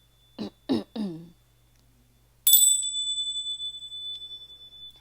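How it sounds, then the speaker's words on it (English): Meditation chimes ring once, clear and bright, then sustain in a long shimmering decay, preceded by a few short throat-clearing sounds in a quiet room. "I will bring in some chimes"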